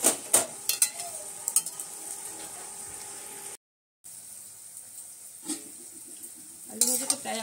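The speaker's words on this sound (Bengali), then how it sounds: "শুধু তেলের মধ্যে আলুটা ভেজে নেব।" Potato pieces frying in plain oil with no turmeric or salt give a soft, continuous sizzle, broken by a few sharp utensil clicks and stirring knocks and one brief dropout.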